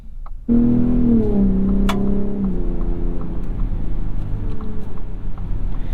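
A 2021 Ford F-150 Raptor's 3.5-liter EcoBoost V6 bursts into a loud, close roar after a brief pause, its pitch sliding down as the revs fall, then settling into a steady, gritty drone.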